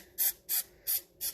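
Pam cooking spray sprayed into a cup to leave a thin coat of oil for molasses while making gingerbread: four short, close hissing bursts in an even rhythm, with nothing else heard.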